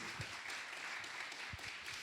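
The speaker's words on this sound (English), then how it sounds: "we can give a big round of applause for one and only Jaq Greenspon" Round of applause from a live audience after a storytelling talk by Jaq Greenspon: quiet, steady clapping of many hands spread across the whole moment, fairly distant and soft, with a few sharper claps standing out.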